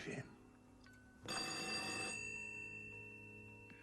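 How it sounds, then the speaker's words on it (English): A telephone bell rings with sharp, sustained harmonic tones in a film scene, a short burst then a longer ring, with faint background sound underneath. "Pick up the phone."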